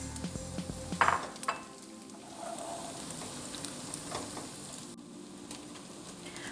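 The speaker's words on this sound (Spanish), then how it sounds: "Vamos a poner nuestro tocinito, igual bien cortadito. Vamos a dorar bien." Chopped bacon browning in a pan, starting with utensil clatter and a sharp scrape, then a continuous close sizzle with occasional stirring.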